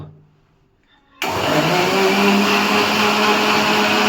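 An old mixer grinder whirs on abruptly after a brief quiet moment, then runs steadily and loudly with a constant motor drone until the end.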